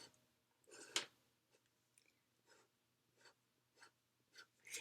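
A pen scratches across paper in quiet, irregular strokes, close and soft, with short pauses between letters as a word is written out.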